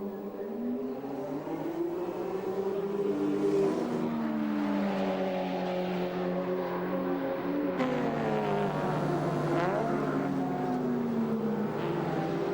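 Race car engine from the 1992 Bathurst 1000 as car number 2 pulls out of the pit lane and rejoins, a steady droning roar with rising and falling harmonics as it accelerates, loud and continuous throughout with other engine noise around it.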